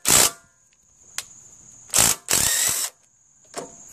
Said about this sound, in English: I'm gonna remove the carburetor by taking off these two bolts, that bolt right there, to get the air cleaner cover off